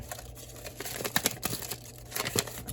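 Paper being cut for a handmade craft piece, with irregular close-up snips, crinkles and rustles that rise and fall in short bursts and no talking.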